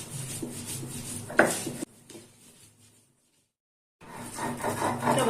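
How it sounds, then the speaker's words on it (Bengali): A cooked ingredient ground into paste with salt, with steady close rubbing and scraping strokes in a rough rhythm, a brief pause of near silence, then the grinding resuming. "নামিয়ে এবার ভালো করে এটা বেটে নেব।"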